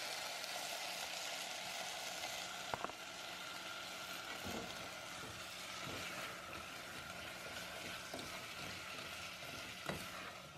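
Tomatoes boil in a pot on the stove, giving a continuous hissing, bubbling wash with a few sharp clicks and taps scattered through it.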